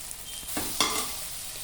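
Coriander and chili powder fry in a pan for a mushroom curry, with a faint background sizzle and a couple of quick scraping stirs.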